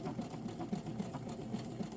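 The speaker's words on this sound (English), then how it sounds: "Learning how to make buttonholes with a sewing machine has been life-changing for my projects." Sewing machine stitching a buttonhole on fabric: a steady low mechanical whir with regular faint pulses of the needle, close up and continuous, with no talking.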